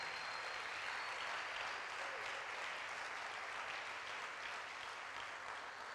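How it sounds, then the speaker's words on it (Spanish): Dense, sustained applause from a church congregation, a steady wash of many hands clapping at even loudness throughout with no pauses. "Denle un aplauso al Señor."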